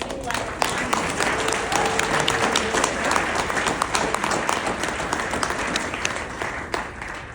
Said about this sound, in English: Let's have one more round of applause for all these amazing